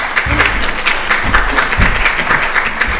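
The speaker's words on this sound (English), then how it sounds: "Spontaneous round of applause for Jordan, everyone." Audience at a medical grand rounds session claps in a short burst of applause, close and fairly loud, with individual claps standing out in an even, continuous patter.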